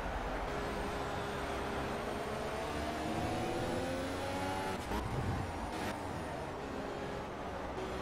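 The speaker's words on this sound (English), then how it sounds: "Holy cow. This car is so fast." Race car engine in the racing video game Project CARS, a loud, steady high-revving roar that holds for several seconds, then shifts pitch with a brief gear-change burst before pulling strongly again.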